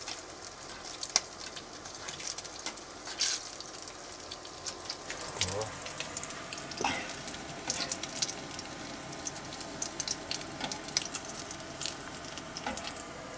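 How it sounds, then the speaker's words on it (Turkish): Meatballs (köfte) fry in a pan outdoors by the sea, giving a soft continuous sizzle with scattered pops and crackles while people talk nearby. "Birazdan köftelerimizi pişirmeye başlıyoruz."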